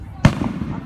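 A single firework bursts with a sharp boom over Delaware, followed by a fading crackle and rumble, with people chatting faintly around it.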